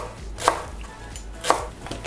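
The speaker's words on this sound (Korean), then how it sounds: "파 그냥 어슷썰게 해주시면 됩니다" A kitchen knife cuts scallions on the bias, two crisp close chops about a second apart on a cutting board.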